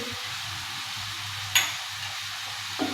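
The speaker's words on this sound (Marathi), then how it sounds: "आता हे सर्व मसाले भाज्या आणि पनीर एकदम हलक्या हाताने हलवून व्यवस्थित मिक्स करून घ्यायचं आहे" Paneer, vegetables and spices such as chili flakes, turmeric and oregano are stirred gently in a pan for paneer rolls, giving a soft steady scraping and faint sizzle with one sharp clack of the spoon midway.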